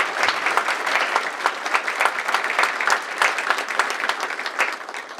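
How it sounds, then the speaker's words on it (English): A large audience at a city's State of the City address applauds warmly, a dense, even patter of clapping that holds steady and tapers slightly at the end. "let's give the Lakes of Taylor, their staff, and everyone else a big round of applause"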